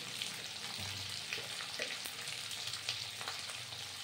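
Spinach stalks and potatoes fry in a pan with a steady, close sizzle and soft crackle, plus a few faint stirring clinks, no voices.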